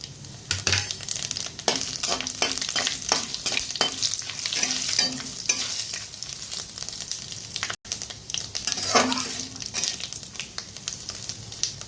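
Bay leaf and panch phoron spices sizzle in hot oil in a pan for a moong dal with dudh kochu, crackling and popping loudly up close while being stirred, with a brief gap midway.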